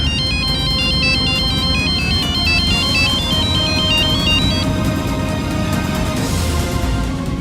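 Phone ringtone playing while a call is placed, a loud melodic electronic tune looping steadily over a dense musical background, with no talking.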